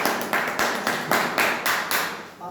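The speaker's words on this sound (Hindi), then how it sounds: "एक बार जोरदार ताली।" Applause from an audience after a stage play, a steady burst of clapping that pulses in a regular rhythm and stands alone without talk.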